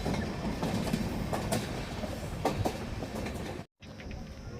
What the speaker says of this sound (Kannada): ಹೊರಟಿದೆ ರಾಮನಗರ ರೈಲ್ವೆ ಸ್ಟೇಷನಿಂದ